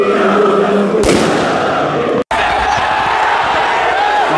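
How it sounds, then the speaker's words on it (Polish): Firecrackers go off among the crowd at a Polonia Warszawa versus Pogoń Siedlce football match. A sharp bang cuts through steady crowd noise, followed by a brief dropout and more stadium din. "zaczynają się petardy."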